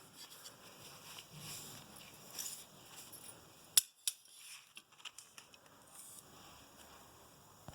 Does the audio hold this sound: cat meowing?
no